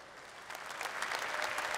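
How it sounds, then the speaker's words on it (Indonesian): An audience at a music awards ceremony breaks into applause that swells from a soft start into steady, sustained clapping from a crowd. "Mari kita berikan tepuk tangan yang meriah untuk mereka semua."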